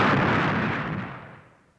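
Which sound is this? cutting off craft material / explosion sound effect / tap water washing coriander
explosion sound effect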